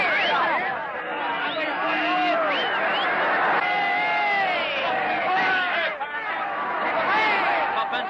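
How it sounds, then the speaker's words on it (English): A large crowd celebrates the end of Prohibition in 1933 with loud, dense cheering, whoops and excited chatter. The noise stays steady throughout, with a crackly archival newsreel quality. "And how the crowd is greeting it."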